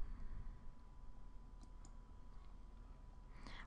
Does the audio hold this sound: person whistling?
no